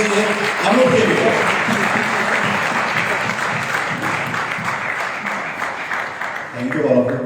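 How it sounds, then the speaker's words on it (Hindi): An audience at a live anniversary celebration in Bangkok breaks into loud, sustained applause, a dense wash of clapping with a voice heard at the start and again as it fades. "जोरदार तालियां होनी चाहिए अनूप के लिए"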